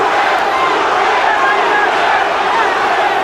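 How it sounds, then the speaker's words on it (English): Boxing arena crowd at a Durán fight, a dense continuous roar of many voices rising into a chant, loud and steady throughout. "The crowd starts to chant again."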